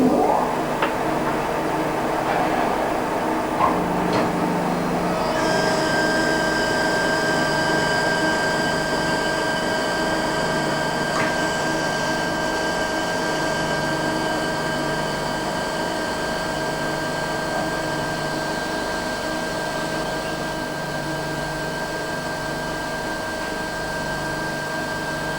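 A tensile testing machine runs a specimen test, giving a steady mechanical drone with a constant whine and sustained tones that hold evenly for the whole stretch, without speech.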